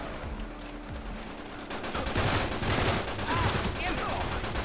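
Rapid automatic gunfire bursts in the online multiplayer shooter Uncharted 3, a dense, loud rattle that intensifies midway and continues to the end, with a player's voice talking over it.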